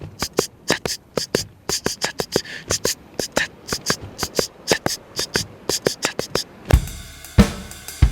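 A drum kit plays a steady hi-hat pattern, with crisp, evenly spaced ticks joined by bass drum and snare hits. It sounds close and dry, and a couple of heavier crashes come near the end.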